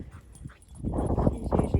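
A dog snorts and snuffles like a pig on an outdoor walk: faint sniffs at first, then a run of loud, close, rhythmic snorting grunts in quick bursts, with no talking.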